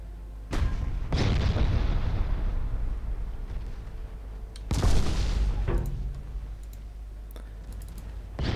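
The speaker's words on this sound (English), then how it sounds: "the Atlanta is taking a lot of heavy fire" Heavy naval gunfire strikes the cruiser Atlanta in the naval battle game Ultimate Admiral Dreadnoughts, two big booming impacts with long rumbling tails, scattered sharp clicks between them.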